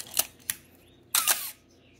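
A 35mm SLR film camera fires its shutter: two quick sharp clicks, then a longer mechanical clack-and-whir, close and alone in a quiet room.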